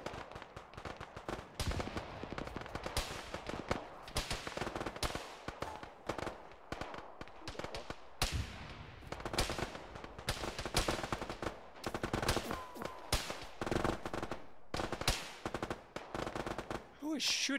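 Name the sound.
gunfire in a military video game (ArmA, ShackTac)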